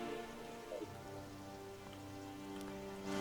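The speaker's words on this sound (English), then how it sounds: "Ah yes, the rain." Steady rain pours down in the video game Terraria Calamity, a continuous even hiss that fills the whole stretch, with faint game tones layered underneath and no talking.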